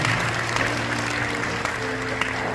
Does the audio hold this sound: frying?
no